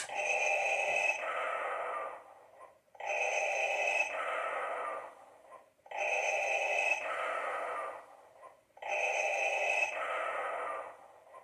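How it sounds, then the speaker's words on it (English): Four slow, regular breath cycles come from a Star Wars Black Series Darth Vader helmet's built-in effect, each a hissing inhale then exhale, mechanical and evenly paced. "You do actually get the iconic breathing sound effect"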